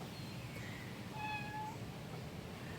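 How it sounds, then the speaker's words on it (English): A house cat meows at the door to be let in, one drawn-out mid-pitched meow heard moderately close over a low steady room hum. "my cat is meowing at the door."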